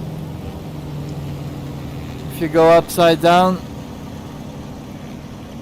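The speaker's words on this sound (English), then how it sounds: "you can hear the RPMs lower because the engine is not getting her fuel" A steady flight-simulator aircraft engine drone hums throughout, its RPM dropping as fuel is cut off, with someone speaking briefly over it in the middle.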